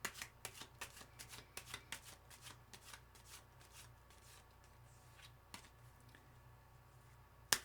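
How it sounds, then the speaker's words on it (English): Tarot cards are shuffled by hand close up, a quick run of crisp riffling snaps and soft slides that thins out into quieter rustling, ending with one sharp tap. "I'm going to take another shuffle."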